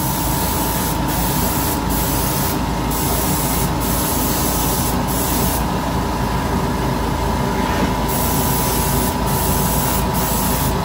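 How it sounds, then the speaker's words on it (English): A steady, loud hiss of an air-powered paint sprayer painting fishing glide baits runs continuously, with brief pulses and dips in the spray and no talking. "I'm using a lot of air and I'm spraying fast and furious"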